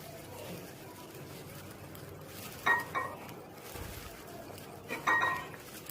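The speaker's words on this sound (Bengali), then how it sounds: "এবারে ভেজে রাখা কোফতাগুলো এক এক করে ঝোলে ডুবিয়ে দিচ্ছি" Fried chital fish koftas being dropped into boiling curry, with two distinct clinks of a utensil against the pot about two seconds apart over a low, quiet background bubbling.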